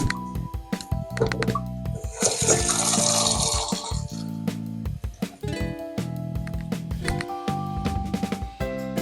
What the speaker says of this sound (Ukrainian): Набираємо води щоб було трошечки вище рівня картошечки.